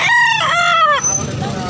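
A rooster crowing loud and close, one drawn-out cock-a-doodle-doo that breaks off after about a second into rough, fading noise.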